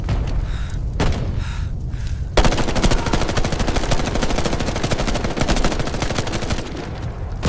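Sustained machine gun fire on a battlefield, a loud close rapid burst of rattling shots running for several seconds after a brief lull with distant thumps.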